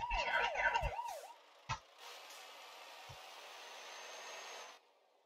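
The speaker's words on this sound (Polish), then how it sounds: "Naprawdę, policja za mną jedzie." Police car siren in Euro Truck Simulator 2 wails in a rising and falling pattern behind a truck for about a second, then breaks off, leaving a steady engine and road hum with a couple of sharp knocks.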